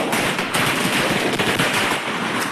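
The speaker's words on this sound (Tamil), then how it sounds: "நம்ம இப்போ வெடி அடிக்கிற இடத்துக்கு வந்துட்டோம்" Diwali firecrackers burst in a dense, rapid string of sharp cracks, a loud continuous crackling barrage close by with no talk over it.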